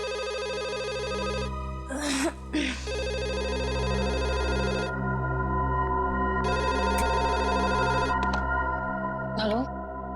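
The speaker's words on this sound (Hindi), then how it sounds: "इतनी रात को कौन फोन कर रहा है?" A phone rings in repeated electronic bursts with short pauses between them, steady and close, while a low hum runs underneath and a few clicks break in.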